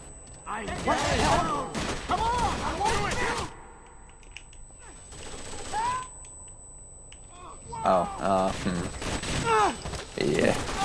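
Gunfire in Rainbow Six Vegas co-op play, scattered bursts of shots heard mostly under players talking, with sharp clusters near the start and again toward the end.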